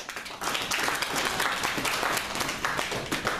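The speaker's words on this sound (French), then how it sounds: "Acclamons pour Jésus." A church congregation applauds during a French-language worship service, a dense sustained wash of many hands clapping at once that carries steadily from start to finish.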